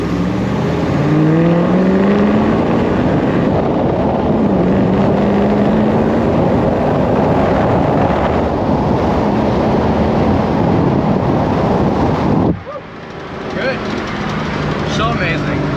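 A 1967 Camaro with Wilwood D52 front brakes drives at speed, its engine droning loud and close with shifting pitch, then drops off abruptly as it slows.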